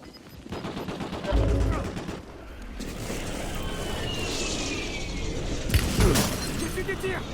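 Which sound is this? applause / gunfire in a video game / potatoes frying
gunfire in a video game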